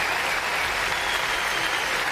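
Steady, dense crowd applause fills an arena at the Paris para dressage individual freestyle final, a continuous wash of clapping with no pauses.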